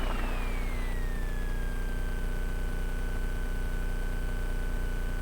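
A light aircraft engine idles steadily during a pre-flight run-up check, a constant droning hum with a thin whining tone that slides down in pitch and then holds level.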